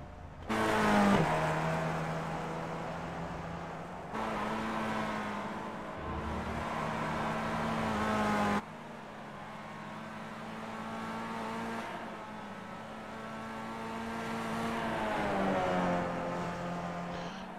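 Race cars idle and rev on pit road at Summit Point in the iRacing simulator, a steady droning engine chorus with shifting pitch and a few level changes, no voices.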